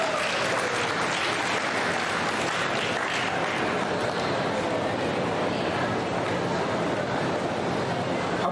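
A seated audience at a book-launch event in India applauds to welcome a speaker to the stage, with dense, steady clapping filling the room continuously from start to finish.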